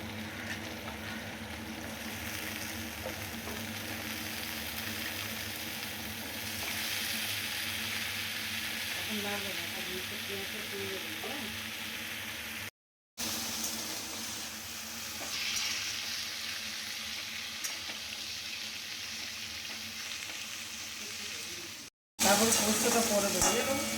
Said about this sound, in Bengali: এর ওপরে তুলে দিলাম ডাঁটা, আলুটা ভালো করে ভেজে নেব